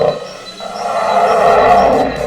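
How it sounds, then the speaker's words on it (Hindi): A tiger's roar plays back from a mobile phone loudspeaker, a loud, close, drawn-out roaring growl with a short dip near the start before it swells and sustains. "अरुण ने अपने मोबाइल फोन पर बालू की दहाड़ की आवाज सुनाई"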